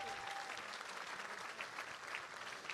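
An audience at a gala at the Minnesota Landscape Arboretum applauds donors. Many hands clap in a dense, steady wash that sounds slightly distant and fairly soft, with no one speaking.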